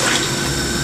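Salted water, 1.2 liters, pours into a pot holding 900 grams of washed basmati rice, a loud, steady rushing splash, close and continuous throughout.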